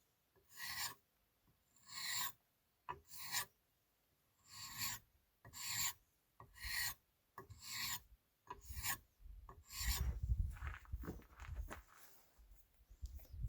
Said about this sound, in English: If you've got a nice leather strop, you can take it off with that. I never have one around, but I found that a board will work just as well.